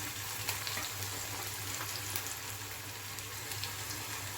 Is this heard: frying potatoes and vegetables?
yes